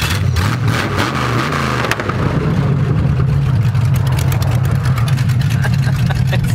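1928 hot rod engine accelerating loudly, a brief rising rev that breaks into a sustained, rapid, popping roar close by, with faint voices under it.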